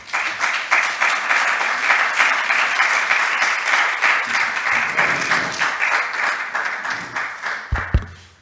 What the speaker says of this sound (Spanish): Muchísimas gracias y un fuerte aplauso